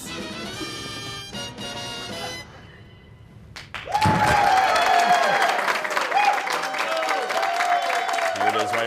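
After a wood-breaking kick at a martial arts demonstration, a crowd bursts into applause and cheering that starts suddenly and stays dense and loud, with talking heard beforehand and voices mixed in.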